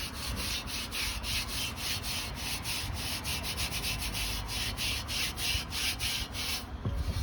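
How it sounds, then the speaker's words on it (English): A cast iron pan is scrubbed after a lye bath, a rapid, rhythmic rasping back-and-forth rub repeated steadily at close range, with no talking over it. "We're gonna start scrubbing this."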